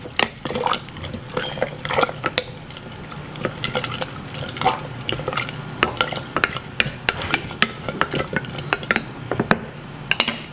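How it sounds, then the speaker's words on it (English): Apples and water being stirred in a jar for homemade apple cider vinegar, a steady run of close wet sloshing and small clinks of the utensil against the glass, with no voices. "I give it all a little bit of stir."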